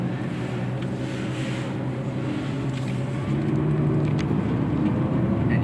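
Engine and road noise from a 2017 Nissan GT-R on a test drive, a steady low rumble that grows slightly louder partway through as it accelerates, with no talking.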